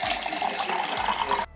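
Water runs steadily from a kitchen tap in a London flat, a constant broadband splash that stops abruptly at the end.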